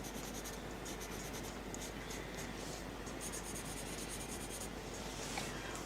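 Pencil or pen scribbling as doodles are coloured in on textured watercolour paper, a close, steady rubbing scratch running without pause over a low background hum.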